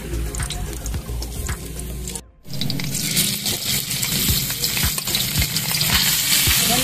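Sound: sautéing leftover rice in a pan

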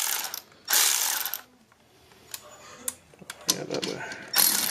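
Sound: ratcheting down bolt of valve spring compressor on Honda H23 head

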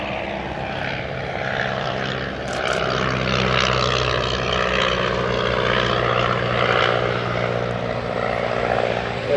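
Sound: Hermes Moth biplane going around

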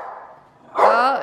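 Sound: small dog barking

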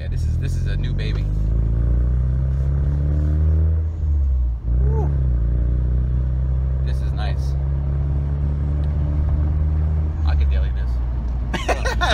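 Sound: Ford Mustang S550 engine rumbling while driving

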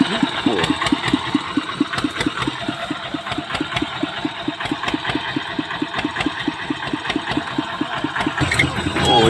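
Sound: engine of an old Thai truck running

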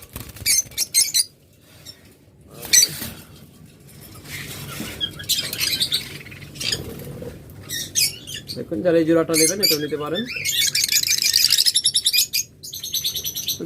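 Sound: lovebirds chirping

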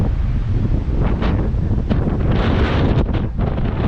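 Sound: strong wind

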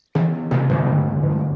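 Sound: thunder

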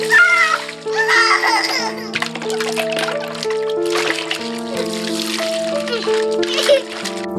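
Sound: children being bathed in a baby tub, water splashing

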